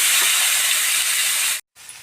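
Chicken pieces frying in a pan give off a loud, steady sizzling hiss that cuts out abruptly for a moment, then resumes more quietly.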